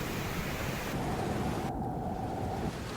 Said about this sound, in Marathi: रात्रीपासून नाशिकमध्ये मुसळधार पाऊस सुरू आहे